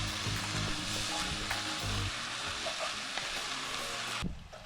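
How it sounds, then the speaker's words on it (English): Food sizzles loudly and steadily in a frying pan while it is stirred, with scraping and clattering over the constant crackle. It is close and continuous, then drops off abruptly near the end. "let's give this a good stir"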